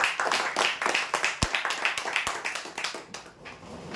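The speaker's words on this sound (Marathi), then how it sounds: "जोरदार टाळ्या होत्या यांच्यासाठी" A small crowd at a lottery draw claps for a prize winner in brisk, uneven applause of moderate loudness that tapers slightly toward the end.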